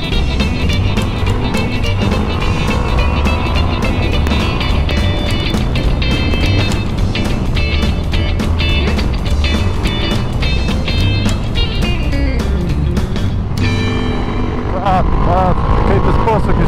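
A Ducati Multistrada 1200S motorcycle engine roars loudly and continuously, its pitch rising and falling through gear changes as it revs hard, close and dominant for the whole stretch.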